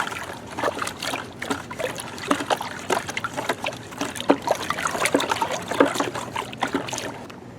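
Water trickles and splashes steadily as it is poured onto pepper plants in a garden bed, a continuous dribbling stream with small irregular splatters, close by and with no talking.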